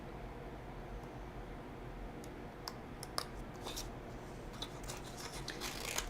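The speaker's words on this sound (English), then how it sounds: "you can always cut the paper off if it starts getting in your way" Scissors cutting paper for a handmade card, a faint series of quiet snips and clicks spread irregularly through a soft, hissy background.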